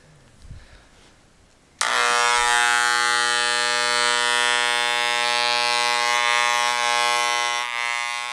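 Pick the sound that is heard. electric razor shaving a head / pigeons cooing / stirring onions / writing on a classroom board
electric razor shaving a head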